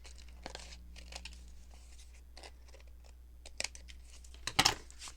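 Scissors cutting lace, heard as faint crinkly rustles followed by a couple of sharper close snips near the end in an otherwise quiet room.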